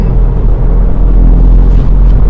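A Ford Fiesta ST3's three-cylinder engine drones steadily while driving through countryside, a loud, continuous low rumble heard from inside the car with no talking.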